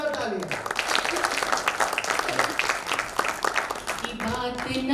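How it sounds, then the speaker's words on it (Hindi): Audience at a Hindi poetry recital breaking into clapping, an energetic patter of many hands lasting a few seconds with voices mixed in at the start and end. "वाह, जोरदार तालियां।"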